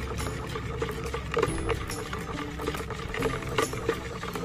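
Water poured into a container of dissolved high-calcium fertilizer solution for grapevines, a continuous close splashing trickle with occasional louder gurgles.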